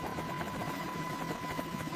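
Boeing AH-64 Apache helicopter rotor during final descent and shutdown, a steady mechanical drone with a sustained whine over low pulsing, moderately loud and continuous throughout with no talk.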